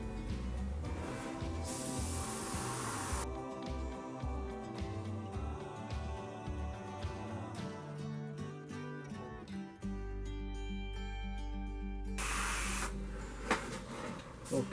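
An airbrush sprays paint onto an RC car body in two hissing bursts, one near the start and one near the end, both partly buried under loud background music.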